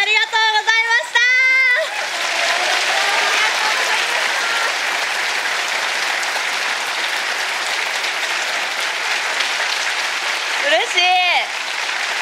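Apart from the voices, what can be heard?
audience giving a standing ovation after a stage play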